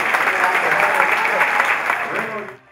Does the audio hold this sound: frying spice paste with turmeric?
no